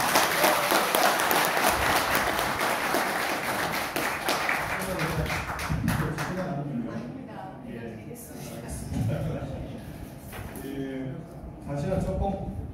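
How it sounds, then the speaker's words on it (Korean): Audience applause for regional Democratic Party committee chairs at a political policy talk in Gyeongnam, loud and dense for about six seconds, then thinning into scattered claps under crowd murmur and talk. "큰 박수 한번 다시 부탁드립니다"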